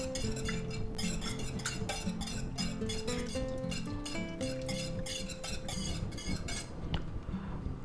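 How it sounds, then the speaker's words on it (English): A whisk beating hollandaise sauce in a bowl, fast steady metallic clinks and scraping strokes repeating rhythmically, close and continuous, fading out at the end. "And now we just continuously whisk here."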